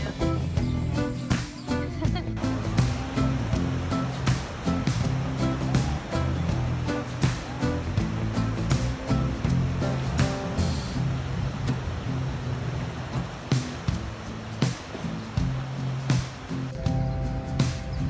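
Ocean surf rolls in steadily at a beach, a continuous loud wash of breaking waves with occasional voices in the background.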